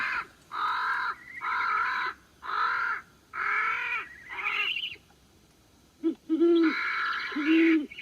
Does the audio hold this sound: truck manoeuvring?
no